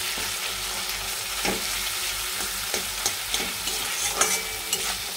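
Crushed ginger and gravy being stirred and fried in a pan, with a steady sizzle underneath and scattered utensil scrapes and clinks throughout, no voices present.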